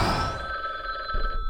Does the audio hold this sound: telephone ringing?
yes